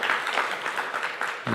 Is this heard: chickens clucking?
no